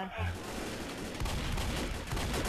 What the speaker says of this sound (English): the minigun doesn't go this way